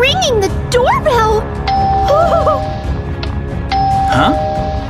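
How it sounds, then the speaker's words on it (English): Doorbell ringing in Minecraft: a loud electronic ding-dong chime sounding twice in quick succession, with excited voices talking over it and a backing music bed. "It's ringing the doorbell!"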